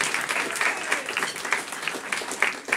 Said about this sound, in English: So one more round of applause for the Kelly Center and for all our students.